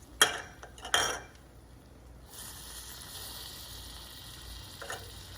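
Cayenne pepper stirred into melted fat in a pan: two sharp clinks of a utensil against the pan, then a soft, steady hiss that carries on to the end, with one more light tap near the close.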